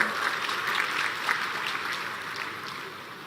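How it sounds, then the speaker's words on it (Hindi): Applause from a large crowd at an agricultural fair and exhibition in Morena, a steady broadband wash of clapping that holds at even strength for the whole stretch and eases slightly at the end. "एक बार जोरदार ताली हो जाएगी।"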